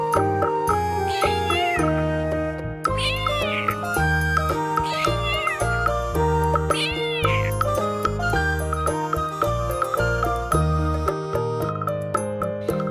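Several bright cat meows ring out over a bouncy nursery-rhyme musical backing, repeated in a sing-song pattern.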